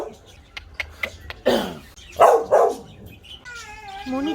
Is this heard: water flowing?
no